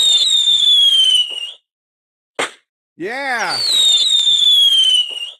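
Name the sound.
fireworks exploding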